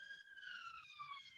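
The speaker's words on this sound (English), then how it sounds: "you can hear a siren going past my apartment there." A distant siren wails as it passes an apartment, its faint wavering tone sliding slowly downward over a quiet room background.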